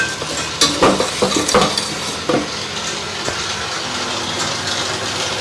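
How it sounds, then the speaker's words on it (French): An electric mixer whisking egg yolks and icing sugar at medium speed, a steady dense whirring with a few quick clattering knocks at the start. "Donc jaune d'œuf et sucre glace, bien fouetter. On commence à vitesse moyenne."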